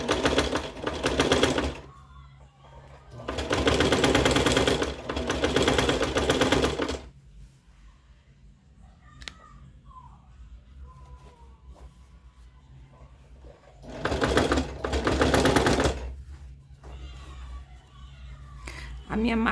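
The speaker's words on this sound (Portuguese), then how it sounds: "eu venho aqui e passo uma costura aqui" A small home sewing machine stitches a pink fabric rug in loud bursts of rapid mechanical clatter, a few seconds each, separated by quieter pauses with faint handling noises.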